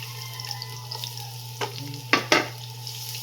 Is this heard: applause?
no